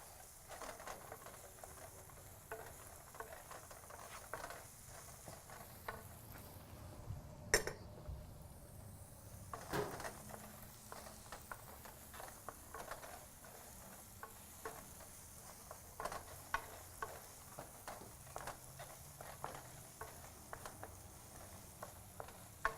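Garlic hits a hot pan and sizzles faintly, a soft steady crackle broken by light stirring clicks. No voices are heard.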